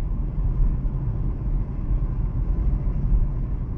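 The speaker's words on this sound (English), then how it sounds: "Driving in Latvia." A car drives along a road in Latvia, its engine and tyre rumble heard from inside the cabin as a steady low drone with no talk.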